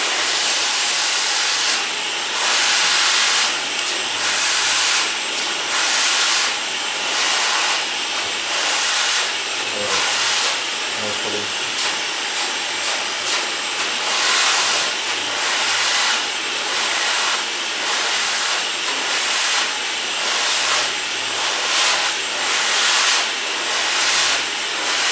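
Hair dryer blowing steadily and loudly close by, its airflow pulsing rhythmically as the stream is moved while drying a fringe on a medium-length haircut, with no voices.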